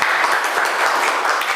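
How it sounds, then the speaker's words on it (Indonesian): Applause for a student presentation group in a classroom, a dense steady patter of many hands clapping continuously and fairly loud throughout. "Ya, beri aplaus untuk kelompok 3."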